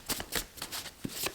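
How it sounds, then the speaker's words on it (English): Tarot cards being shuffled by hand, a quick series of crisp riffling bursts about every quarter second, close and fairly quiet, with no talking. "but I started shuffling regardless"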